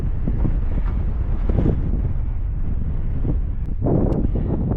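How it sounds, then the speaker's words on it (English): Wind buffeting a microphone on the Chickenfoot Trail at Gunstock in New Hampshire's Belknap range, a loud, steady low roar that surges in gusts for the whole stretch, with no talking. "Windy."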